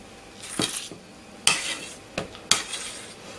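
A spoon stirring zucchini and ham batter in a bowl, producing four distinct scraping clinks at irregular intervals against quiet surroundings, close but soft, with no voices.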